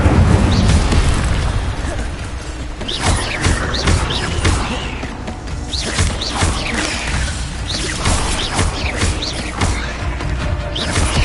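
Repeated fire spells blasting during a spider fight in Hogwarts Legacy, dense booming bursts and crackles layered with combat effects at a constantly loud level.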